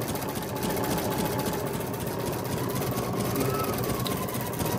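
A Husqvarna Designer Epic 3 embroidery machine stitching out a design: a steady, continuous mechanical whir and rapid needle chatter, moderately loud and unbroken, with no talk.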